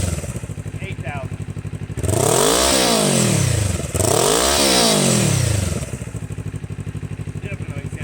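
A motorcycle fitted with a 62-dollar slip-on exhaust idles with a steady burble, then revs hard twice toward 6,000 rpm, each rev rising and falling in pitch before it settles back to idle.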